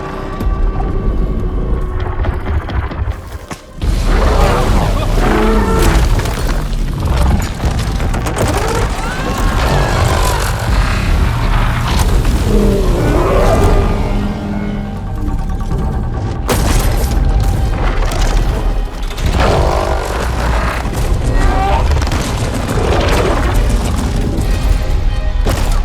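Heavy cannon booms and crashing blasts repeat over a dense, noisy Horizon Forbidden West soundtrack, with voices talking now and then.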